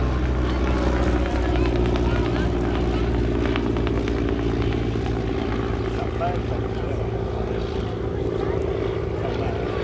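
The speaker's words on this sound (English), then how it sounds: "This is a post-war model, an Auster AOP6 with 145 horsepower de Havilland Gypsy Major engine" Auster AOP6 post-war army observation aircraft with a 145 horsepower de Havilland Gipsy Major engine, a steady loud propeller drone holding close throughout at an airshow, with voices talking over it.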